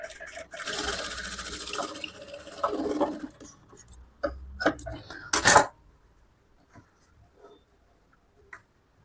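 Sewing machine stitching tucks on a boat neck blouse, running in several quick bursts with short pauses, then stopping, heard close up with a voice talking over parts of it.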